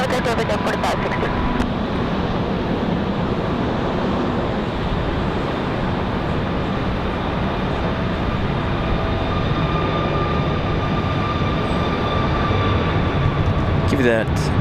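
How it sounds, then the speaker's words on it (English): A Boeing 737 MAX 8 jet departs Raleigh-Durham International Airport on a windy day, its engines a loud, broad, continuous roar that holds steady throughout. "departing this 737 MAX 8"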